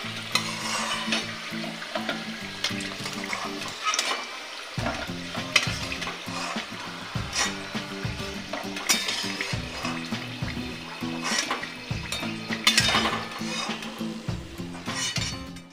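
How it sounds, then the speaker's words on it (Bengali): Cauliflower singaras deep-frying in oil produce a dense, continuous bubbling sizzle near at hand, with frequent clinks and scrapes of a utensil turning them in the pan. "হয়ে গেল আমার সিঙ্গারা ভাজা।"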